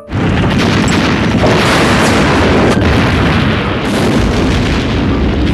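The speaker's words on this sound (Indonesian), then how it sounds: "para tentara Jerman dengan menghujani tembakan senjata artileri ke area medan pertempuran" Artillery fire pounds a Stalingrad battlefield in a war film, a dense, continuous roar of booms and bursts that stays loud and unbroken throughout, with no voices.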